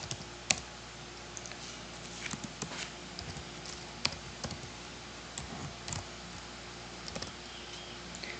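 Keys tapped on a computer keyboard while entering labels into an Excel spreadsheet, with irregular light clicks, scattered single presses and short bursts, close and fairly quiet over a steady faint hum.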